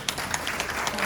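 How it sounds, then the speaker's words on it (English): Audience applause at a presentation on dealing with difficult people in Portugal, a short steady wash of many hands clapping at once, filling the room without gaps. "Let's give her an applause, please."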